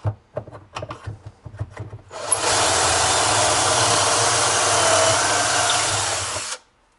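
A power drill bores a hole in wood for a miter station build, a few short taps and bumps first, then one continuous loud grinding whir of about four seconds that stops abruptly.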